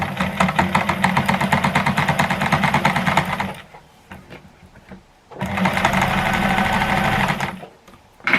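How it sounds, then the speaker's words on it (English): A sewing machine runs in two steady bursts, stitching around a handbag strap for a cottage garden handbag, with a short pause between runs and a brief restart at the end; close and fairly loud, no talking. "just take your time and stitch all the way around"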